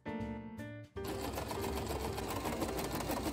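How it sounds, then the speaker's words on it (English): Sewing machine stitching the center front seam of a ballgown, a loud, steady mechanical whir that runs briefly, pauses for a split second, then restarts and continues at full speed to the end. "I'm gonna go ahead and sew the center front seam"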